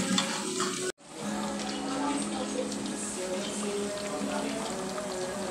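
Sweet potatoes frying in hot oil give a dense, steady sizzle that starts abruptly after a short break and keeps going close by, with faint stirring noises and a voice speaking now and then underneath.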